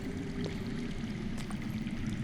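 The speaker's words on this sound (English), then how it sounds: "I hear water. From underground." Underground running water in a video game, a steady low rushing and trickling flow that stays faint and continuous throughout, with no voices.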